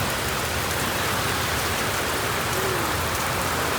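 Heavy rain pours down in a dense, unbroken roar, loud and close, with no voices over it.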